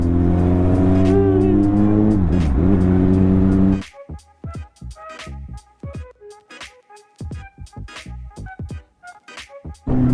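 Cars on a Thai roadside, one loud engine roaring close by for the first few seconds, then a quieter stretch broken by repeated short bursts and clicks as traffic passes.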